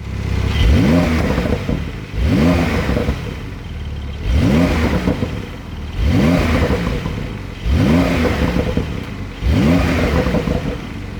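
A Porsche 992 Targa 4S engine revs hard through its exhaust, six loud, evenly spaced blips, each climbing sharply and falling back to idle, heard close and alone.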